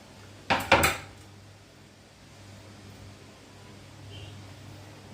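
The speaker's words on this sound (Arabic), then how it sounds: "هجيب بقى الكمية دي كلها في الصينية بتاعتي عشان نحمصهم في الفرن" Cut pieces of bread are tipped into a metal baking tray in a home kitchen, giving two or three quick close clattering knocks followed by quiet room hiss.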